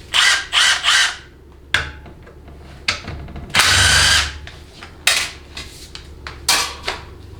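Power tool working a 10 mm TV cable bolt on a 700R4 transmission during teardown: short loud whirring bursts, one longer run, with metallic clinks of tools and parts between them.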